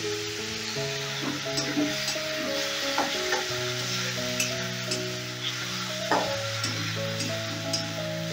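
Poppy seed and mustard paste sizzling in a pan while being sautéed for a Bengali fish curry, a soft continuous crackle under steady background music, with occasional spoon taps and stirring scrapes.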